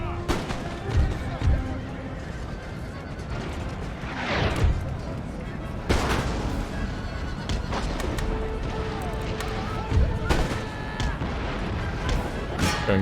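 Artillery and musket fire in an Empire: Total War battle, with repeated loud booming blasts scattered across the scene over continuous battle noise, a horse whinny and someone talking throughout.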